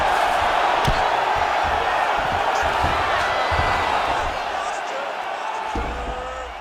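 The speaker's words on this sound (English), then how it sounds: "the crowd is loving it" A crowd at a mixed martial arts fight roars and cheers in a loud, sustained wash of voices, with a few thumps and shouts rising through it as the noise slowly eases.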